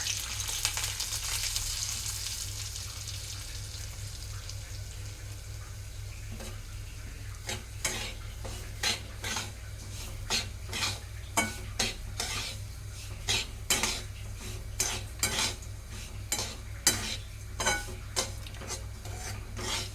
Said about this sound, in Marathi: मीडियम गॅसवर आपण आहे ना रवा भाजायचा